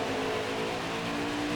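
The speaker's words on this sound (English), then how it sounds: "lots of oscillation there in the revs" A race truck engine in NASCAR Heat 4 at Dover drones loudly and continuously with a wavering, oscillating rev, heard alone and up close.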